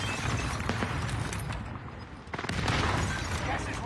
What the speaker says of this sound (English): Enemy precision airstrike. Stay alert. Hit the deck!